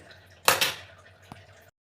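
A metal lid clanks down onto a cooking pan of Bengali cabbage and rice, one sharp close clatter followed by a faint rattle and a small tap, over a quiet kitchen hum.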